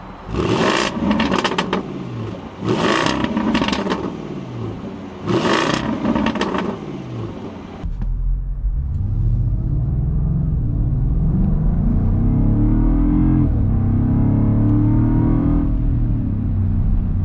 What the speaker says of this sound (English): let's take out the V8 Defender and see how it performs.